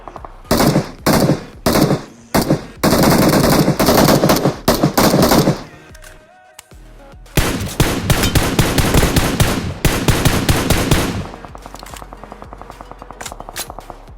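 Gunfire in the mobile battle royale game BGMI comes in rapid automatic bursts, loud and close, broken by a short lull, then a long sustained volley that tapers into lighter, evenly spaced shots.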